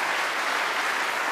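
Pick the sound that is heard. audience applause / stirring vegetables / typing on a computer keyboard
audience applause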